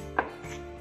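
A single sharp knife chop through herbs on a board while preparing olivier salad, one crisp near hit followed by a softer follow-through, no talking.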